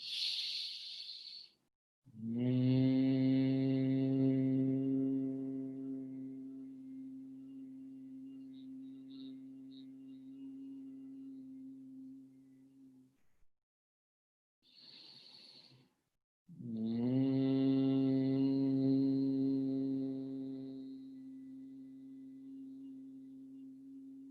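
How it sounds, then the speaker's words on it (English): Two long, steady humming tones on a closed-mouth M sound during yoga humming bee breath, each preceded by an audible breath in through the nose, with a short pause between. "you're just kind of creating the sound with the alphabet M in your mouth that creates the vibration"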